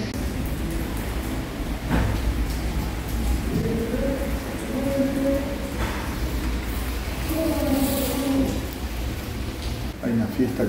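Steady rain with low rumbling thunder at an abandoned train station, a voice speaking intermittently over the storm.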